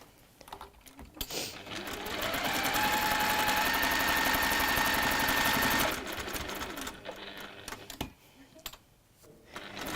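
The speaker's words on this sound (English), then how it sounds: "So let's give that a little top stitch." A sewing machine runs steadily for about four seconds while top stitching fabric, loud and close, with quieter handling before and after.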